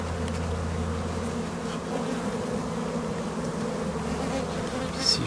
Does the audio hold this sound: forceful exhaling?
no